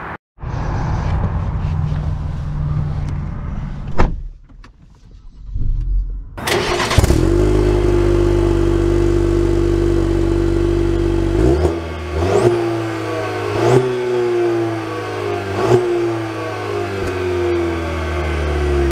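A 2024 Cadillac CT4-V engine starts with a loud bark, then settles to a steady idle, followed by several sharp revs that each climb and fall back, close and loud with a light whir.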